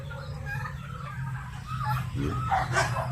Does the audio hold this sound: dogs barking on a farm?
yes